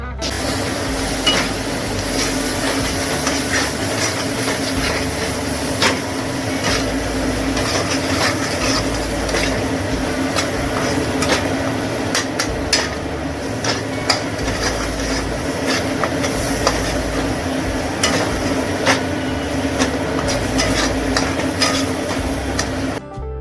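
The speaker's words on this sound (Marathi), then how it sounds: "आता छान मसाले जे आहेत ते सुद्धा परतून घेऊया" Turmeric and spices sautéing in a pan for an Agri-style bombil (Bombay duck) curry, a steady close sizzle with frequent clinks and scrapes of a spoon stirring against the pan, and no talking.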